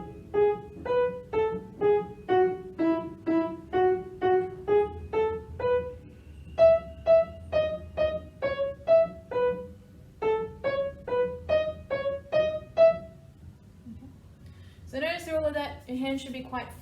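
A piano staccato practice exercise, a regular run of short, detached notes stepping through a pattern, with a voice speaking briefly at the end.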